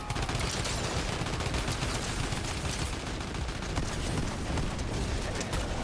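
A drum gun fires in the video game Fortnite Chapter 5 zero build, a dense unbroken burst of rapid gunfire that stays loud and steady throughout with no talking over it.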